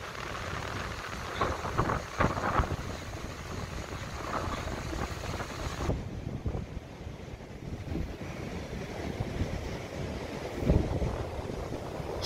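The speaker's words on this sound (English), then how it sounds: "Stormy day here in Taranaki, White Cliffs." Stormy coastal wind blows hard at White Cliffs in Taranaki, with surf breaking below, a steady roar of gusts and wind buffeting the microphone, waves surging throughout, and no one speaking.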